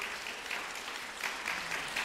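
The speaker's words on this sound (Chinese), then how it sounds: "拍手欢迎你来，欢迎。" A church congregation claps to welcome a newcomer during a Sunday worship service, a soft, steady patter of hands with slight swells, moderately distant and without voices.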